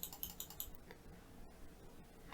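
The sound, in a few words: computer mouse clicking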